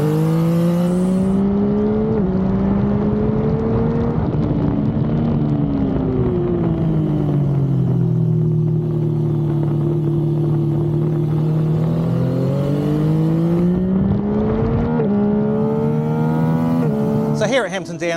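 A Yamaha MT-09 with Y-AMT automated transmission laps Hampton Downs, a twisty, undulating circuit, its engine note rising and falling through gear changes, loud and close throughout, with a voice speaking over it.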